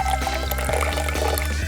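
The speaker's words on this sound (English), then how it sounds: "Pour it in the glass." Vinegar poured into a glass for a home science experiment, a loud, close, continuous trickling fill that runs without a break, with no voices.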